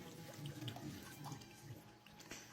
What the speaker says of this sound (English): the next thing you would do is you will pour the water